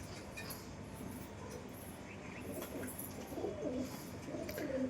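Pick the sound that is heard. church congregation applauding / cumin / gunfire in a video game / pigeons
pigeons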